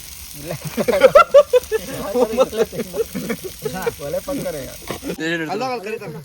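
Fish fries in oil on a tawa over an outdoor stove, a steady sizzle running beneath loud, close talking from people nearby.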